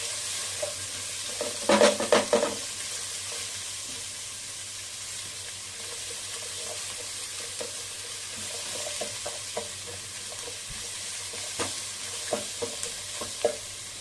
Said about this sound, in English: I'll just stir it for some time, say for 3 minutes